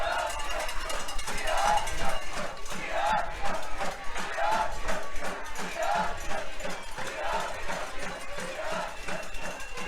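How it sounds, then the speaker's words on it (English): A rowdy crowd at a regional fast-pitch softball tournament chants and shouts back and forth in a steady rhythmic pattern, repeating every second or so, loud and continuous throughout. "Crowd getting a little rowdy again."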